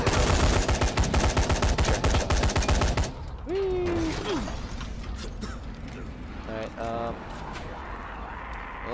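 Rapid gunfire bursts from a weapon in the zombie video game Dying Light, dense and loud for the first few seconds, then giving way to quieter creaks, mechanical clicks and scattered game noises.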